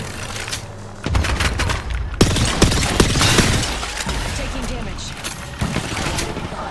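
Bursts of automatic gunfire and impacts from another squad in the battle royale game Apex Legends, sustained and loud, mixed with booms and shattering effects while players talk excitedly over it.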